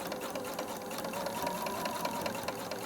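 A sewing machine stitches in the ditch along the seams of a quilt, its needle running in a steady, fast, continuous whir at close range with no talking.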